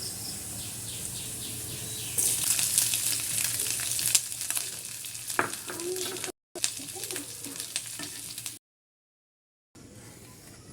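Rice hits hot oil in a miniature kitchen pan for fried rice, bursting into a loud, bright sizzle with stirring clicks that cuts out abruptly before a quieter return.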